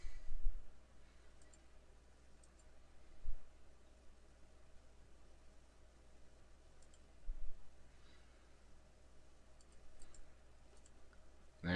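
A computer mouse gives a handful of faint, sparse clicks, spaced several seconds apart, over a quiet hiss while a part is sketched in CAD software.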